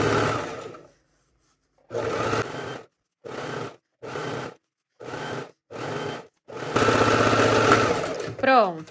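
A sewing machine runs a straight seam along a fabric strip in short bursts: a steady motor whir with rapid needle chatter, stopping and starting about six times, with a brief pause near the start.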